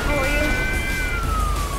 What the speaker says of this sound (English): Hi, police car.